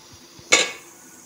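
A single metallic clank as the lid of an idli steamer is lifted after steaming, a short bright clatter that rings briefly and fades over near silence with faint low thumps.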